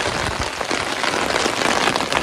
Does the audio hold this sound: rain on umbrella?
yes